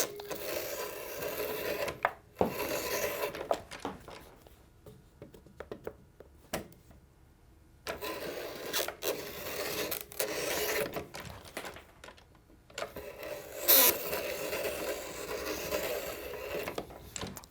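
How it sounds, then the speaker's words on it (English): A 5-in-1 rasp scrapes and files a leather boot sole, rough rasping strokes in bursts with quiet pauses between them, working up close in a boot-making shop. "So I'm going to use a 5-in-1."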